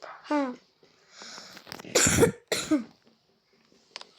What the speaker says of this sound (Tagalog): Sorry dahil umuubo ako.